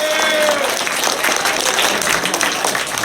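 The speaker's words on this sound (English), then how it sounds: "So give a round of applause for our staff." An audience applauds the staff at a House of Blues stage, a dense wash of clapping sustained evenly for about three seconds, loud and close, with a brief high tone fading early on.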